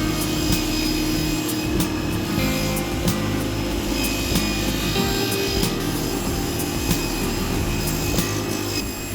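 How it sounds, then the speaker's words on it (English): A power saw cuts leg pieces from scrap form ply in a workshop, a loud steady whine running throughout with no pauses. "I'll start with cutting the leg pieces first"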